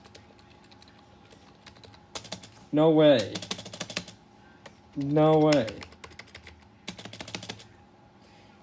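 Someone types in short bursts of rapid, crisp clicks on a water-resistant computer keyboard, and a voice speaks twice between the bursts.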